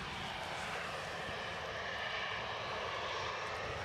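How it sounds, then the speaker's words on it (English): A Ryanair Boeing 737-800 takes off at Edinburgh Airport, its jet engines producing a steady, broad roar heard from a distance and filling the whole clip without any talk. "So this Ryanair is off to Shannon."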